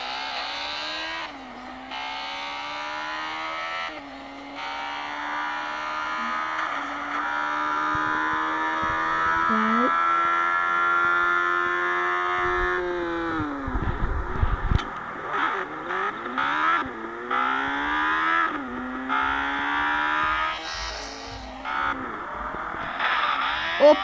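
A motorcycle engine in Grand Theft Auto revs and climbs through gears with rising pitch sweeps, loud and continuous, with a brief dip and rough bursts midway before revving up again.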